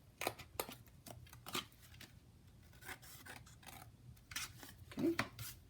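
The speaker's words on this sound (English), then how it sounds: "now I'm gonna trim this in an angle like this." Paper being trimmed at an angle for a traveller's notebook shaker cover, quiet rasping snips and rubbing strokes in quick bursts, close and fairly faint.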